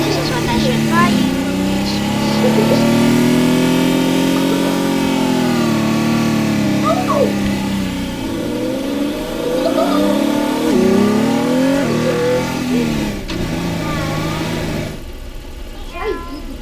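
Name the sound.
car engine revving in Teardown video game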